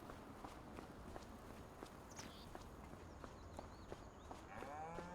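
Cows on a farm in the video game Farming Simulator 25, faint low moos over a steady patter of hooves or footsteps, with a soft animal call near the end.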